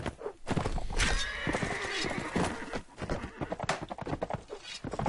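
A horse whinnies loudly amid clattering hoofbeats in the video game Mount and Blade: Warband multiplayer, with busy game-like action sounds and a German voice breaking in briefly.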